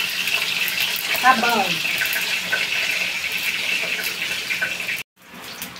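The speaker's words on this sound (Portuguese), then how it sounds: "Pegar uma água aqui pro arroz." Tap water runs steadily into a pot to fill it for cooking rice in a rural kitchen, a continuous close gush that stops abruptly near the end, with a brief spoken word over it.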